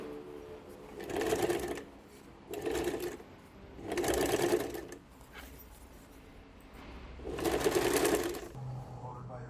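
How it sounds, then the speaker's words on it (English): Sewing machine stitching through a bulky DIY travel backpack in four separate loud bursts of running stitches, with short pauses between as the bag is pulled through. "you may have to help your sewing machine by pulling the bag through"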